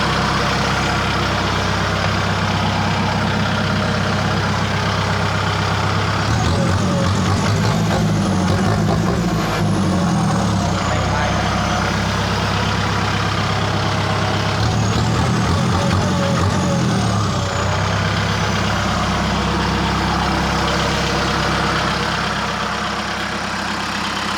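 A heavy M6240SU tractor engine rumbles loudly through an aftermarket exhaust with a 2.5-inch tip, idling steadily and revving up twice, close and continuous.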